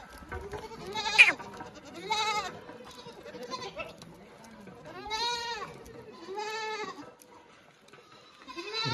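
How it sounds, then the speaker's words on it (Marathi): Osmanabadi goats on a farm in Parbhani district bleating in a series of distinct, fairly close calls spaced through quiet stretches, one sharp cry standing out early. "एकदम टॉप क्वालिटीच्या शेळ्या आहेत बघा।"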